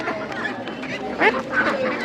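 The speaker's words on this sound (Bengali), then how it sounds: "এটা হচ্ছে একটা ক্যাম্বেল হাঁস" Khaki Campbell ducks quacking in short nasal bursts at a duck and chicken market in Birnagar, over a busy outdoor background of chatter and voices.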